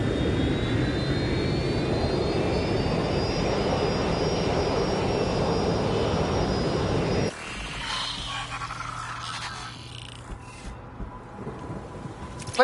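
An airplane's jet engines roar steadily and loudly in the Watch Dogs Legion video game, with a rising whine over the top, then the sound cuts abruptly to quieter mixed ambience.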